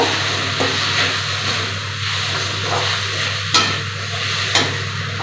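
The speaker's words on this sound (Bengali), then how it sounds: "এবার এটা আমি একটু কষিয়ে নেব" Spices sautéing in a pan with coriander powder and salt for an egg and okra curry, a close continuous sizzle broken by a few scraping stirs of a spoon, with no talking.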